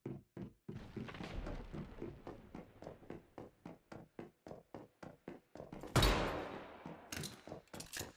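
Turret gunfire in the Star Citizen video game, a steady run of heavy, evenly spaced thumping shots, loud and close, with a louder blast partway through before the rhythm resumes.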